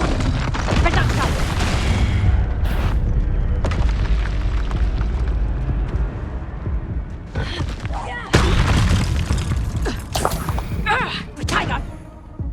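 Repeated booming spell explosions from combat in Hogwarts Legacy on PS5 come close and loud, bursting over a constant rumble of game noise and effects.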